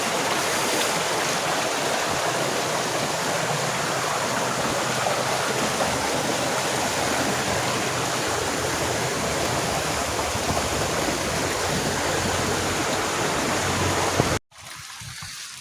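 River stream flowing beside a path, a steady loud rushing wash of water that runs unbroken, then cuts off abruptly near the end.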